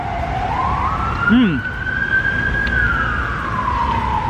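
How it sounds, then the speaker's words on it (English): An ambulance siren wails, rising and holding steady for several seconds, loud and close, over a constant background rumble of traffic on an Istanbul street. "Ambulance won't go away."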